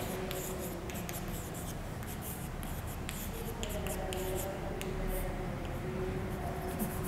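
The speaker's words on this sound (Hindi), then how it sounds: "मैं लिख रहा हूँ" Chalk or marker writing on a board during a maths lecture, a faint steady scratching with short strokes and taps at close range and no voices.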